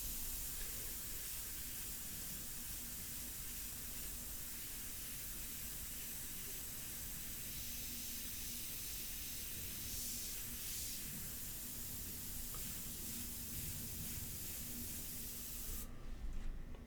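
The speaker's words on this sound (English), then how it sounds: "this is a great airbrush, so I really enjoyed it. It works great for the white mixture" An airbrush sprays a white paint mixture onto an ink portrait, a steady soft hiss of air held close and continuous, with a brief sharper rustle near the end.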